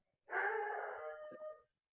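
A dog lets out one faint howl lasting over a second, a wavering tonal cry that rises and then tapers off, heard alone in a quiet room.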